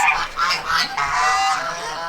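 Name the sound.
geese honking in their pen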